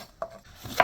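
Two quick knife chops on a board as garlic cloves and red and yellow peppers are cut for Egyptian shrimp hawawshi, a faint tap followed by a louder, sharper one, with no talking.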